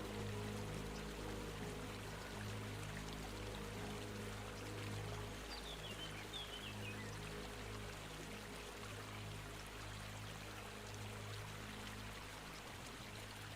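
Water flows steadily, a soft continuous pouring and trickling with a low hum underneath, faint and unchanging.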